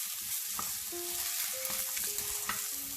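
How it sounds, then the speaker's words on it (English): Cut asparagus is stir-fried in a hot pan, a continuous crackling sizzle under repeated scraping strokes of a spatula and faint metallic clinks, close and moderately loud. "At this moment, add cut asparagus and stir for 1 minute."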